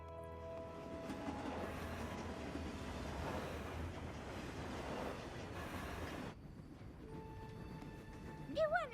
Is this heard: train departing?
yes